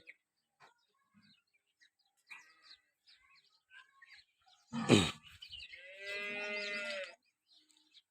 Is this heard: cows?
yes